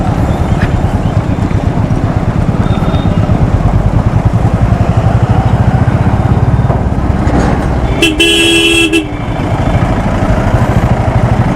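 Royal Enfield Classic 350 motorcycle, a 2016 model of about 200 kg, thumping steadily and loud throughout while filtering through traffic, with a brief car horn toot partway through.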